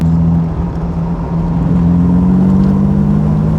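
1953 Aston Martin DB2 Vantage Drophead Coupé engine, a loud close steady drone that swells slightly as the revs rise and hold, with no voices.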